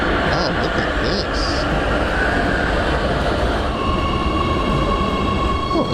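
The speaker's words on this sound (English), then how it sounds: "I hear train sounds" A large three-car Oslo tram rumbles past close by, a loud sustained rolling roar with faint high wheel squeals and tones over it, while someone talks nearby.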